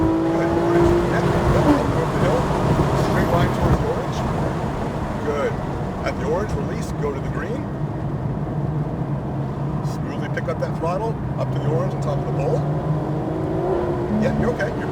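A Porsche GT3 RS engine drones steadily under acceleration on the New Hampshire Motor Speedway circuit, heard from inside the car with a constant roar and shifting pitch, while an instructor talks over it.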